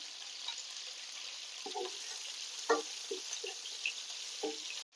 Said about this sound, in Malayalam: ഫസ്റ്റ് തന്നെ ഉപ്പിട്ട് കഴിഞ്ഞാൽ നമ്മളുടെ ഉള്ളിയൊക്കെ പെട്ടെന്ന് വാടി കിട്ടും ഇനി ഇത് നല്ലൊന്ന് വഴറ്റിയെടുക്കാം